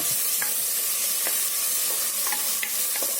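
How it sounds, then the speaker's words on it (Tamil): A steady, loud sizzle of ginger garlic paste frying in a hot pan, with occasional scrapes of a spoon stirring it, close and continuous. "பச்சை வாசனை போகிற அளவுக்கு நல்லா வதக்கிடலாம் அதை."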